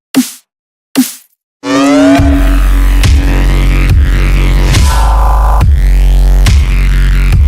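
Two crisp snare hits ring out alone. Then a loud, punchy beat loops, with snare strikes repeating in steady rhythm; the snare is a custom sound stitched from samples in FL Studio.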